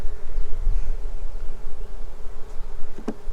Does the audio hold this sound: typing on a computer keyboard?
no